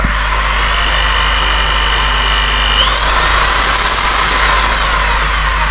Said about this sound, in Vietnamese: chuyển chức năng khoan thường nè